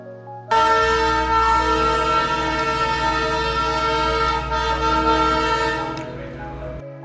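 Darjeeling's toy train rolls close past houses and shops, a loud horn blast cutting in suddenly and holding for several seconds over the clatter of the passing railcars, then fading.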